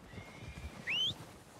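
A horse whinnies once in Red Dead Redemption 2, a short high neigh in the middle of the clip over soft hoof clatter and low background rumble.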